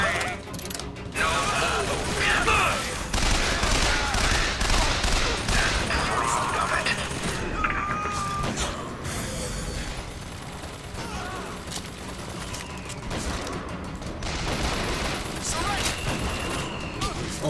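Volley gun firing in the video game Bioshock Infinite, heavy launcher bursts and mechanical ratcheting clatter amid busy game action, moderately loud, with a player talking over parts of it.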